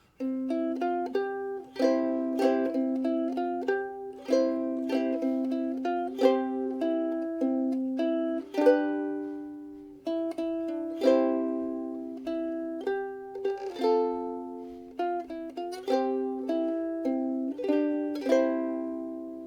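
A ukulele played fingerstyle works through "When the Saints", with chords and melody combined: clear plucked notes in a steady rhythmic run, close and alone without talk.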